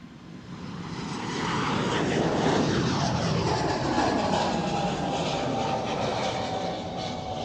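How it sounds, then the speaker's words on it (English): A three-year-old Embraer E195-E2 jet departing for Trondheim swells into a loud engine roar with sweeping tonal whine, rising over the first seconds and holding strong before easing slightly. "the flight to Trondheim, the E2 E195, 3 years old. He will be the first"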